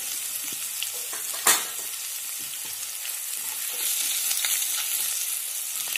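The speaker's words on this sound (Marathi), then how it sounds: "बोंबील चांगले फ्राय करून घेते। त्याच्या तेलामध्ये चांगलं तळून घ्यायचे।" Bombil (Bombay duck) fish fry in hot oil with a continuous bright sizzle and crackle, close and steady, with one sharp clink or pop early and the frying growing slightly louder toward the end.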